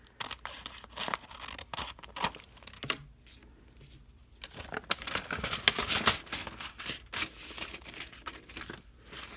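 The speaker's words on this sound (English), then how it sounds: "Now I'm going to cut this envelope. I'm just going to cut off the 2 sides so that I can open it up" Scissors snip and tear through a paper envelope to cut off its sides, giving close, quiet bursts of crisp cutting and crinkling spread irregularly over several seconds with brief pauses between.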